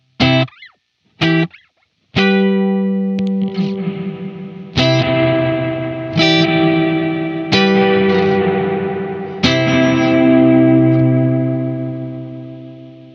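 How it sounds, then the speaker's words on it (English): An electric guitar plays through an Ancient Echoes reverb pedal set bright with the dampen control all the way down, loud separate strummed chords each ringing into a long, lively shimmering tail. "You can hear it's really bright and really lively with the Dampen all the way down."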